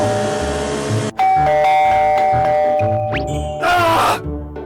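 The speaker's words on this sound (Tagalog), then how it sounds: "May nag-doorbell ba?" A doorbell chimes in clear sustained tones, with a ringing ding-dong pattern repeating and a brief electronic trill near the end, loud and close.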